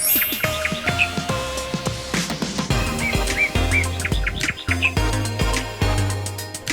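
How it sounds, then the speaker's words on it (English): Birds chirping at the Ramses III mortuary temple in Luxor, Egypt, a busy overlapping chorus of sharp repeated tweets and calls, close and loud, with no talking. "Look at the birds of the air."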